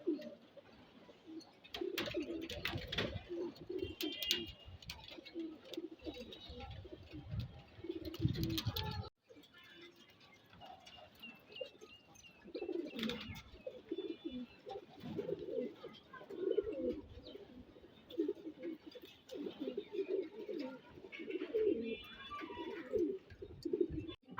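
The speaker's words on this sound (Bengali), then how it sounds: "আমার বাসার দুইটা কবুতরের বাচ্চা" Two young pet pigeons at home, one frill-necked and one silver, coo repeatedly in soft, close, rolling calls with short pauses, alongside faint chirps and a little quiet background noise.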